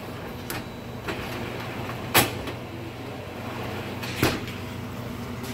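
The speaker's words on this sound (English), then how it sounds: "Now I will open and close the drawers." Drawers on a Montague refrigeration unit are pulled open and pushed shut, giving about four soft thumps and clacks at irregular intervals over a steady low mechanical hum.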